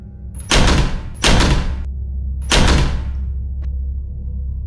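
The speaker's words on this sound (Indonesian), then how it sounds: "terdengar dan terlihat sangat jelas kalau pintu yang terbuat dari kaca buram itu seperti ada yang mendorong dari luar" A frosted glass door in a horror story gets pushed and banged hard three times, each heavy thud rattling loudly through the glass. A faint tap follows in a quiet room.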